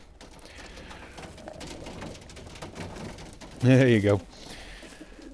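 Racing pigeon in a loft gives one short, loud coo partway through, amid quiet rustling, with someone speaking softly nearby.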